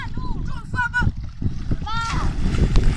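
Children splash in the sea, with water slaps and splatters mixed among excited kids' voices and adult chatter, close by and lively.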